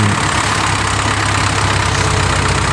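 A Ford farm tractor, a used machine fitted with a loader bucket for chicken manure, runs at a steady idle, its even engine drone loud and continuous with no talk over it.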